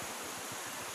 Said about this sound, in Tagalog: sumaagos yung tubig